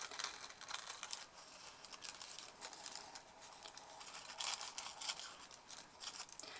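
Scissors cut around tissue paper in quiet, close snips and crinkles, a run of small crisp cuts with rustling paper between them and no voices.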